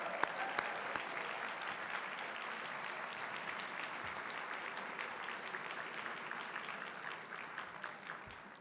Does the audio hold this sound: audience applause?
yes